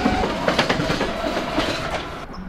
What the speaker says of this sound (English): The BART train went by and man, these things are really slow.